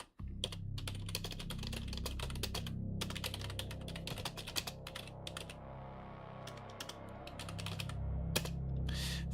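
Close-up typing on a computer keyboard comes in quick clattering bursts of keystrokes separated by short pauses, continuing throughout with no voices.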